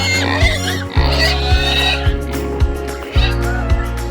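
Pigs in a roughly two-acre silvopasture pen grunt and oink in a repeating series of deep, loud, close calls about every half second, over a steady background hum on a spring farm.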